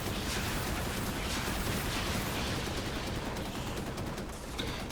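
Dense, continuous gunfire and explosions fill the mix in the tank combat video game Armor Attack, a steady rattling barrage throughout with no spoken voices.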